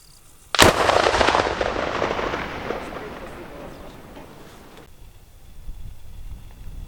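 Sappers in southern Ukraine destroy an unexploded munition with a twisted fuze on the spot. A single sharp, loud blast booms, then rumbles and fades away over several seconds in open terrain.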